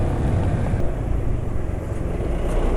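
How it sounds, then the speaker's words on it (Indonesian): Motorcycle engine running somewhat rough on Piccoli Kenwa racing oil once hot, giving a steady, close, continuous low drone and hum with no pauses and no talk over it. "ini juga oli Piccoli Kenwa-nya sudah mulai terasa agak kasar suara mesinnya ya."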